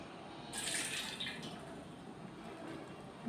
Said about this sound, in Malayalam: അതിനുള്ളിൽ ഇപ്പോൾ ഉള്ള വെള്ളം മുഴുവൻ ഇതുപോലെ നമ്മൾ കളയുക.